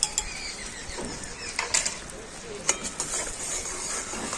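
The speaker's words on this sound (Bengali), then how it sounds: "তো আরও একবার নেড়ে নিচ্ছি, যেহেতু কর্নফ্লাওয়ার তো তলায় বসে যাবে" Grape juice with cornflour is stirred in a pan, giving soft scraping strokes and a few utensil knocks against the pan over a low sizzling background, fairly quiet and close.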